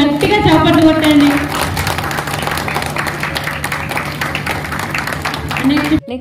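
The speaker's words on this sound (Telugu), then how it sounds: "సో వచ్చినందుకు, టైం తీసుకున్నందుకు గట్టిగా చప్పట్లు కొట్టండి" Audience applause at a school alumni reunion, a dense, steady patter of many hands clapping close by for about six seconds, with a voice briefly heard at the start.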